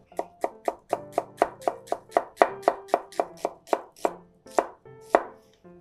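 A knife thinly slices onion on a cutting board for kakiage, about twenty crisp, evenly spaced chops in a steady rhythm, close and clear with no talking.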